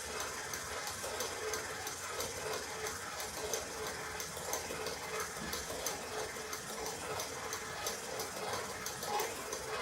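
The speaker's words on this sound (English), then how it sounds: "I'm just doing it on low speed, which is speed 2 on a KitchenAid mixer." KitchenAid stand mixer on low speed 2 with a dough hook kneading a basic sandwich loaf bread dough, a steady close motor whir with a faint rhythmic ticking, constant throughout with no talking.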